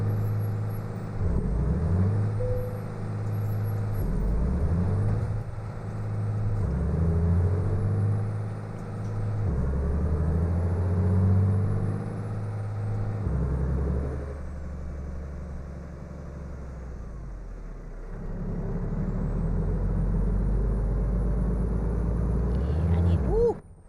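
A big rig's engine in American Truck Simulator, a steady low diesel drone that rises and falls through gear changes and revving, with hissing air brakes, running continuously throughout.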